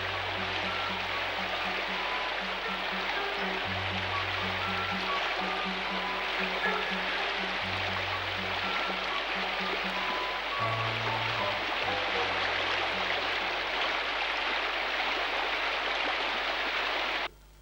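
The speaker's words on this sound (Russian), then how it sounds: "То ей вот так струиться по скалам, то, слившись в ручейки, лететь с отвесной кручи" Mountain stream in North Ossetia rushing over rocks, a steady, dense, fairly loud wash of water that runs unbroken, with a low hum of music beneath, before cutting off abruptly.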